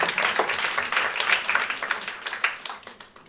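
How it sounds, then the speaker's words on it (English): A crowd applauding steadily, dense clapping throughout at moderate volume, tapering slightly toward the end. "Can we have a big round of applause?"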